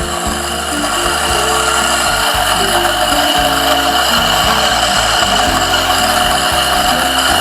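An electric burr coffee grinder grinding coffee beans, a loud steady whirring grind that runs continuously and close throughout, with a pulsing, chattering low rumble underneath and no talk.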